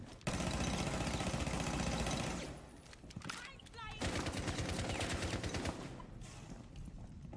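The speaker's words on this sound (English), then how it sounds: "Check my recoil control, Will." Automatic gunfire in the video game Rainbow Six, loud sustained bursts with a brief lull and dense rapid shots resuming, mixed with game sounds and voices talking over it.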